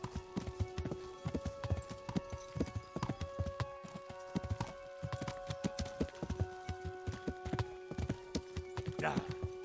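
A fast horse in Kingdom Come: Deliverance gallops, rapid hoofbeats clattering in a steady rhythm throughout, with a brief whinny near the end and faint game-like ambience underneath.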